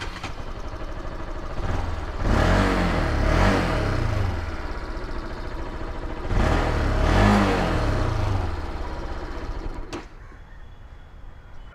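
A 2012 Bajaj Pulsar NS200 motorcycle engine idles nearby, then revs up twice in strong surges that swell and fall back to idle before the sound cuts down near the end.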